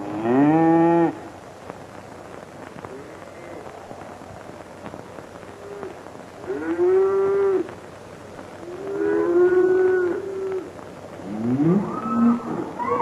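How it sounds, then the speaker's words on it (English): Cattle mooing in a rural pasture, with several long, loud low-pitched moos, one at the start and others near the seven, nine-to-ten and twelve second marks, separated by quiet stretches of faint background. "Cows is cows, I know."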